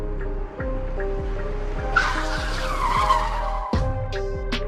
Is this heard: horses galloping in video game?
no